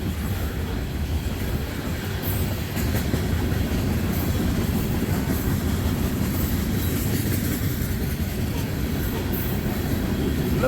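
Freight train with a distributed power locomotive at the rear rolling past, a steady dense rumble of wheels and cars with faint rhythmic clatter throughout, heard continuously without talk.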